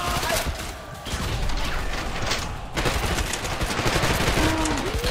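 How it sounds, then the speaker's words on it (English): Enemies are shot in the first-person shooter Trepang2. Dense, continuous automatic gunfire rattles close and loud from start to finish, with only a brief dip in the middle. "Very fun to shoot all these guys."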